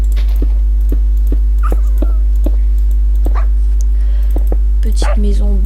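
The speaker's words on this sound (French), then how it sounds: "Oh, j'ai des chiots." Puppies in a hardcore survival video game whimper and yip in short, repeated squeaks, with a steady low hum under them and a person's voice near the end.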